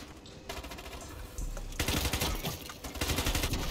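Rapid automatic gunfire in the video game Ironsight, dense bursts that grow louder and more continuous halfway through, close and sustained.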